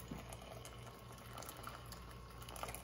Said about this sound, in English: Now we put water to our potatoes and we boil it.